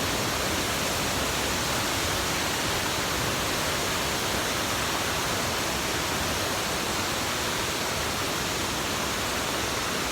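A steady, full roar of falling water from a waterfall along a hiking trail, continuous and loud for the whole stretch with no voices.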